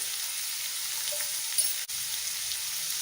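Chopped chow chow and onion sauté in hot oil with turmeric for a poriyal, giving a steady, close hiss with one brief knock partway through.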